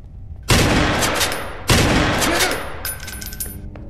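Two loud gunshot blasts from the horror video game Fatal Midnight, each with a long rattling decay, the second about a second after the first, followed by fainter clicks and tones.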